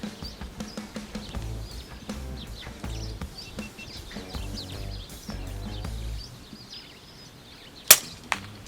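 A Daystate Red Wolf airgun fires a single sharp, fairly close shot at a dove on a dairy farm, over steady outdoor ambience with birds chirping around, followed by a faint second snap.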